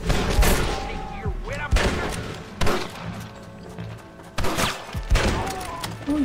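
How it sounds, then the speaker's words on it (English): In the Red Dead Redemption video game, several sharp gunfire bursts ring out in uneven volleys, with a voice talking over them. "Stop shooting me."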